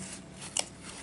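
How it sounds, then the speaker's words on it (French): A quick snip of scissors cutting cardboard near the middle, followed by a fainter second cut, close and crisp with no talking. "Vous allez prendre votre paire de ciseaux"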